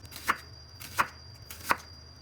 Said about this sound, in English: Next, cut it into thin slices